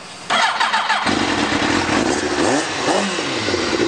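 A 2007 Kawasaki ZZR 600 track day motorcycle, recently jetted with its valve clearances adjusted, fires up with a sharp start and settles into a loud, steady, close-up running engine note with slight revving fluctuations.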